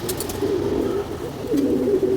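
Pigeons kept by a fancier in Jammu and Kashmir coo close by in a steady, continuous run of low, rolling calls with no talking.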